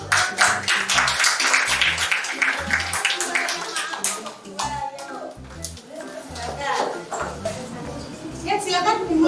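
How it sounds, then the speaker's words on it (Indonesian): A classroom group of children gives a burst of clapping that fades after a few seconds, mixed with children's voices and chatter throughout. "Kita beri tepuk tangan."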